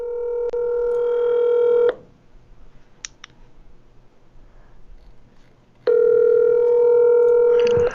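A telephone call's ringback tone sounds as two long steady tones separated by about four seconds of near silence, loud and clear with no voices.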